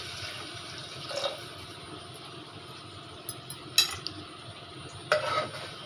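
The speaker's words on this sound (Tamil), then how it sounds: "இதை நல்லா மிக்ஸ் பண்ணிடலாம்." Rice being stirred with coconut milk in a pot, two cups of milk to each cup of rice, giving a low wet churning with a few light scrapes and clinks of the spoon, alone and close.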